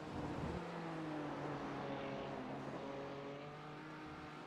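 A BMW GT3 race car accelerates hard through the esses at Mid-Ohio, its engine note climbing steadily as it powers on, loud and continuous with no talk over it.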